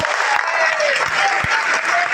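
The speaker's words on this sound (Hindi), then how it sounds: "हम सब ये ताली बजा रहे हैं" A crowd at a workers' rally applauds in a dense, steady burst of clapping, loud and close throughout.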